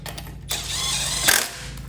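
A ratchet tightens a lug nut on a car wheel during a brake pad change, giving a steady mechanical clicking whir for about a second with a sharper burst near the end, heard up close over a low hum.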